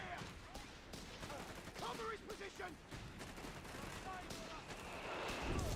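Artillery rounds land in a Company of Heroes 3 match, a continuous rumble of blasts and crackling gunfire mixed with battle noise, while a caster talks over it throughout.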